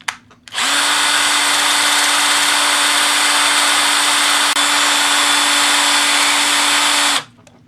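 A power drill spins a dart made from a nail while a file on a Leatherman multi-tool shaves it. The drill gives a loud, steady, high whine for about seven seconds, then stops sharply.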